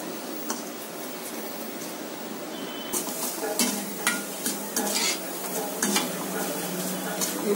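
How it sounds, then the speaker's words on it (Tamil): Cauliflower chips frying in hot oil over a low flame, a steady close sizzle with bursts of bubbling and occasional utensil clinks from stirring. "கான்புலவர் சிப்ஸா குறைய தீ வச்சு வருங்க"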